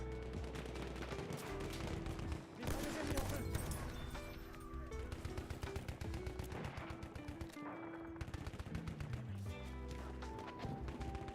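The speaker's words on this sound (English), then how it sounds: "So I just tend to spam my bullets in the general direction." Dense, continuous gunfire from the Battlefield 1 video game, rapid machine-gun bursts and single shots layered over a loud, busy battle soundscape with few pauses.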